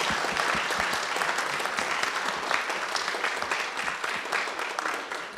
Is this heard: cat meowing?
no